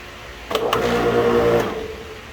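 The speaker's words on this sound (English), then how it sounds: "Okay, now we gotta turn the pump on." A Karcher K2000 electric pressure washer pump starts up, giving a steady mechanical hum with a tonal whine that runs for about a second and then fades, heard alone and close by.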